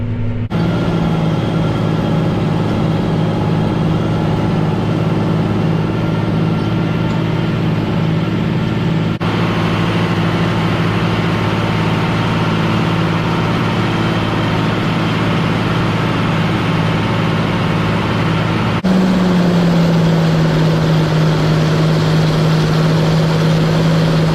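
A John Deere 8530 tractor labors under heavy load pulling a subsoiler through land left untilled for four years; its engine gives a loud, unbroken drone with a slight shift in pitch toward the end, and no one speaks.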